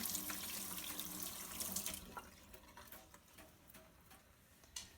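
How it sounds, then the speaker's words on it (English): Hands being washed under a running sink tap, a faint steady hiss of flowing water that fades after a couple of seconds into soft drips, taps and light handling sounds. "So, making sure my hands are washed."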